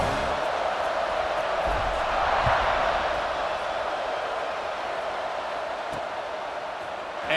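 Stadium crowd in the EA Sports College Football 26 video game before a kickoff, a steady, dense roar of many voices that swells slightly midway and holds at a constant loud level throughout.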